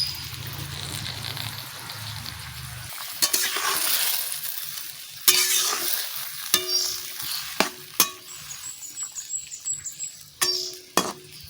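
Spinach tipped into a simmering fish curry with round surma gourd, a soft bubbling wash followed by a series of sharp scraping and clattering stirs in the pot, close and fairly loud.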